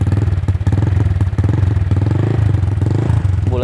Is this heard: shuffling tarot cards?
no